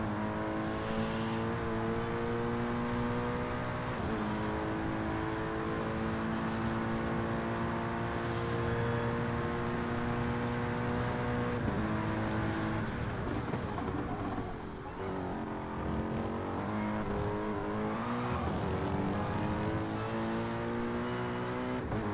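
Race cars in an online racing video game drone steadily with sustained engine tones throughout, shifting pitch as they rev and change gear, with no voices over them.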